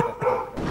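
A dog barks excitedly at a passing garbage truck, with short loud barks close by over steady outdoor street noise.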